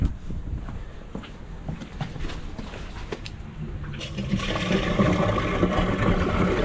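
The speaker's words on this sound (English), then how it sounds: "could you just flush the toilet for me and just make sure that's flowing down this drain" A flushed toilet sends water rushing down an outdoor sink gully drain, a low steady trickle swelling into a louder gushing flow toward the end, with faint scuffing nearby.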